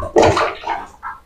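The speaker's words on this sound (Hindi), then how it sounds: "अब हम लोग इसको पानी मार कर साफ कर देंगे" Water sprays in short bursts into a home geyser tank as it is rinsed clean, three close splashing gushes over about a second.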